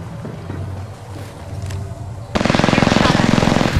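A video game firefight in which a rapid, evenly pulsed burst of automatic fire starts abruptly partway through and stays loud to the end, following a quieter stretch of low rumble and faint background sound.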